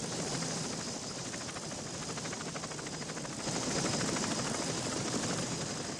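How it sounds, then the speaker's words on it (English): Bell UH-1 Huey military transport helicopter in flight, a steady close rotor thump and engine roar that runs continuously and grows slightly louder partway through, with no voices. "The Huey was able to carry 11 soldiers and their equipment."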